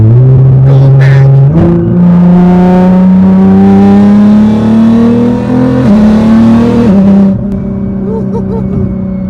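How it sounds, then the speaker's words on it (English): A 1350 HP Nissan GT-R accelerates hard through the gears during a pull, with a loud close engine roar climbing in pitch, brief drops at the shifts, and a high whine riding on top until it backs off near the end. "That was a really high-pitched whine. It sounds like a fighter jet."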